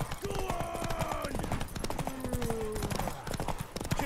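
Horse hooves clip-clopping in The Witcher 3 video game, a steady run of hoofbeats under game music with brief tonal calls and occasional voices.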